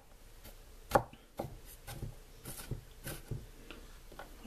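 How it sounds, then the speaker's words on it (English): A knife chops onion on a cutting board in a series of sharp, irregular knocks, one strong hit followed by quicker lighter taps, close and alone. "I probably should have watched the video on how to mince onion."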